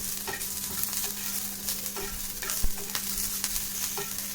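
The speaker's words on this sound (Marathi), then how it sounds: "आपण आता कांदा आणि खोबरं तव्यावरती भाजून घेतोय" Onion and coconut dry-roasting on a tawa for an Aagri-style dried bombil masala, with a soft steady sizzle and repeated scraping, tapping stirs of a spatula spaced throughout.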